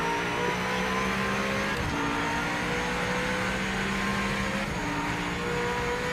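A race car engine from the Project Motor Racing video game drones loudly and continuously, its pitch wavering slightly as it holds speed, with no talk over it.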